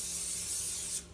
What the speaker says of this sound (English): Olive oil cooking spray,